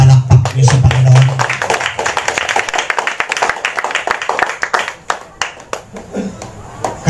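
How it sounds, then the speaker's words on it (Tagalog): Scattered applause from a congregation at a religious gathering, with clapping mixed under a noisy room and background voices. "Ang hina ng palakpak niyo sa Panginoon."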